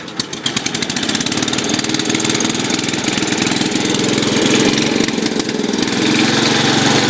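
A small engine fitted with a Walbro carburetor runs steadily and loudly, chugging with a fast, rough, uneven rhythm throughout; nobody speaks over it.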